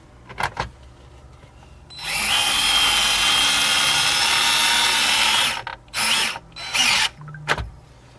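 A power tool driving screws into the dashboard of a 2012 GMC Acadia Denali, with short bursts, then a loud, steady whir lasting several seconds, followed by a few quick ratcheting bursts up close.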